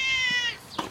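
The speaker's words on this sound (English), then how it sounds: "There's Peepy the cat" A single close cat meow, clear and fairly loud, drawn out before fading into a short softer sound.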